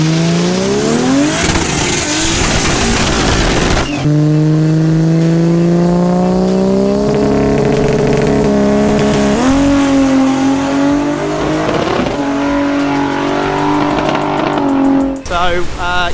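A Barra-engined XE Ford Falcon race car accelerates hard down a drag strip, its loud engine climbing steadily through gears with short shift breaks and tire squeal, running continuously for about sixteen seconds.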